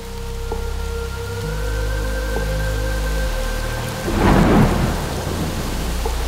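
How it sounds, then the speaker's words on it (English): A heavy tropical downpour at night in North Sumatra gives a steady hiss of rain on surfaces, and a loud, close rumble of thunder swells in partway through. No voices are heard. "not used to seeing rain like this in Denmark"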